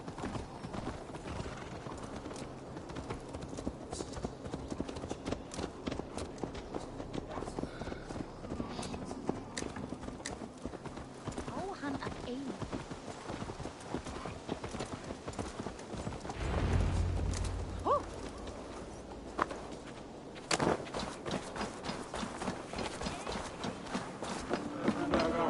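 Horse hooves clip-clop in Assassin's Creed Valhalla, a steady rhythmic trot running throughout over game ambience, with a brief low rumble partway through and occasional speech.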